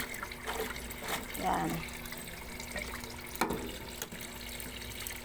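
Weak trickle of tap water running into a washing machine tub during laundry, a thin steady flow heard close under a brief spoken word.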